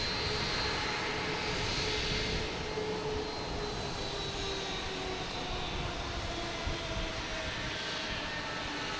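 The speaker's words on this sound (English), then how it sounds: "Next coming in is United Airlines at A319 coming in from Chicago." A United Airlines Airbus A319 jet arriving from Chicago at Boston Logan, its steady broadband engine roar and whine sustained loud and near throughout, with no talk.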